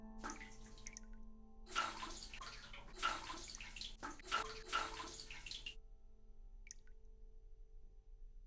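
Water runs and splashes from a tap in the horror video game Homesick, a quiet, hissing flow with a few brighter drips, under a faint steady tone, then stopping and leaving near silence.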